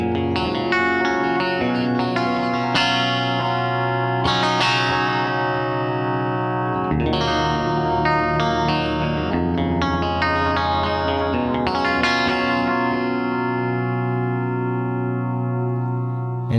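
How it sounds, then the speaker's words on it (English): Electric guitar runs through a Seymour Duncan Deja Vu SFX-10 delay pedal set to its analog bucket-brigade mode with no modulation, lively overdriven chords and phrases trailed by warm repeating echoes that fill a continuous, dense wash of sound. "move the knob all the way to the analog setting without any modulation so that you can hear the difference between a digital delay and a Bucket Brigade chip"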